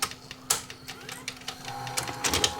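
An Akai AG1970 VCR's faulty tape mechanism whirs and clicks as it tries to load a tape, a close series of small mechanical clunks and motor buzzing.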